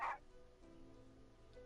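A dog in the Genshin Impact game gives a single short yip at the start, followed by faint quiet ambience with soft tonal game sounds and no talking.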